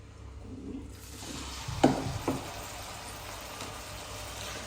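Banana fritters (pazhampori) frying in hot oil give a faint, steady sizzle, with a brief louder crackle near the middle as a new batch goes in. No one speaks.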